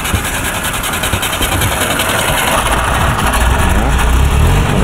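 A UAZ Bukhanka van's engine runs steadily with a broad rumbling drone and a constant, loud vibration inside the cabin, with no clear pauses.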